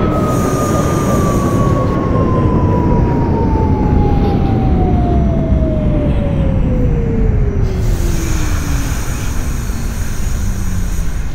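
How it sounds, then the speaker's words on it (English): R68 subway train on the N Express line in the OpenBVE train simulator game, a loud steady rumble of wheels on rails under a long whining motor tone that slowly falls in pitch as the train slows, with no voices. "This is a Coney Island Stowall Avenue bound N Express train"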